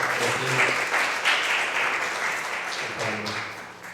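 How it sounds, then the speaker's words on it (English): Church audience at a fourth-anniversary service bursts into sustained applause for the pastor, a dense, steady wash of many hands clapping that tapers slightly toward the end, with faint voices mixed in. "Can you give a round of applause to Pastor?"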